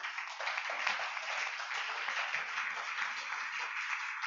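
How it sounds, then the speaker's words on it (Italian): Audience applause at an Italian literary talk welcoming a guest, a steady, even patter of many hands clapping, fairly quiet and continuous throughout with no voices. "vi chiedo poi un applauso per Sergio Garufi"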